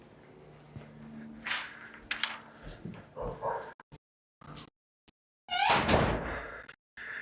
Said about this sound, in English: We were getting barked at